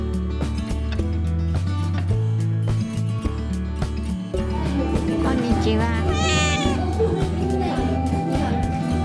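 Cats meowing at a cat adoption event for tabby cats, with a meow rising over a dense, loud mix of background music and voices throughout.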